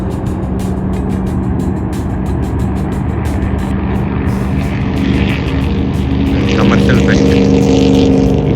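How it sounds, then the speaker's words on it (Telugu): A cargo aircraft passes overhead above a date farm in Kuwait, a loud, steady engine roar that swells slightly toward the end, with a person talking over it. "కార్గో ఫ్లైట్ ఏదో ఫ్లై అవుతుంది"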